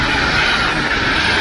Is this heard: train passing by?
yes